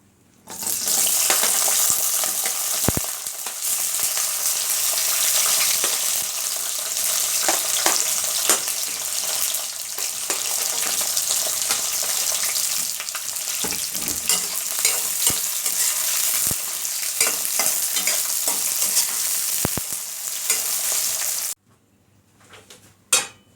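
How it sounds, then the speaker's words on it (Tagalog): White onion fries in cooking oil, a loud continuous sizzle with stirring scrapes and occasional clicks, going on steadily before cutting off near the end. "ipaparay ko po yung ating white onion"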